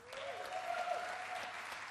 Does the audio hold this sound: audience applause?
yes